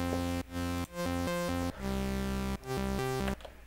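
Serum supersaw built from two detuned saw waves, one oscillator an octave up and another a fifth above, plays rhythmic sustained chords that cut in and out with short gaps, bright and full with no voices.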